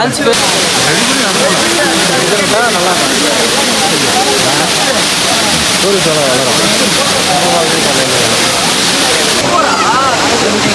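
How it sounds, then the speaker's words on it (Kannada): Loud, continuous roar of Abbey Falls in Madikeri filling the whole clip, with voices of people talking faintly underneath the constant churning water. "ನೋಡಿ, ಇದೆ ಅಬ್ಬಿ ಫಾಲ್ಸ್. ಮಸ್ತ್ ಹರಿತಿದೆ ನೀರು ಮಾತ್ರ,"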